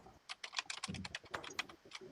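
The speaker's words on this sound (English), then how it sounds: "Who is typing their life away?" Keys on a computer keyboard clatter in quick, uneven bursts of taps, soft and fairly close, with no voices over them.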